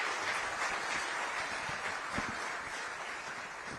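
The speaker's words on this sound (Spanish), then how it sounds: "un aplauso de parte de todos los que hemos venido" An audience at a Latin American forum in the Dominican Republic applauds, a steady, dense wash of clapping that stays fairly faint and even throughout, with no voices over it.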